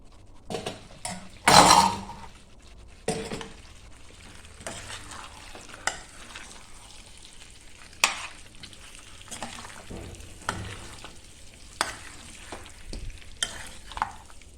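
Spice masala being stirred and roasted in a pan for village-style chicken, with scraping spoon strokes and clinks against the pot at irregular intervals over a soft sizzle, close and without speech.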